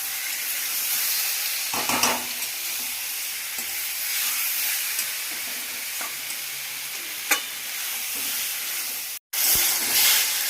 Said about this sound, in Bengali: খুব ভালো করে আলুর সাথে মশলা কষিয়ে নিয়েছি।